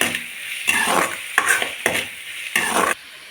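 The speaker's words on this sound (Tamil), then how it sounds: "இதையும் நல்லா குழையிற அளவுக்கு வதக்கிடலாம்" A spoon scrapes and stirs through sizzling chopped tomatoes in a pan, in four or five rhythmic strokes over a steady frying hiss.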